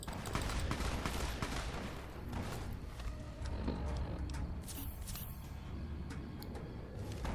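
Rapid bursts of gunfire in Fallout: New Vegas, repeated sharp shots cracking over each other in a loud, dense volley with brief pauses between flurries.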